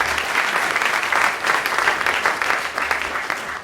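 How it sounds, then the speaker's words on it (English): An audience at an MIT Enterprise Forum San Diego event claps to welcome a game show host, a dense, steady round of applause that fills the room and carries on evenly without any voices on top. "please give Bill a warm round of applause"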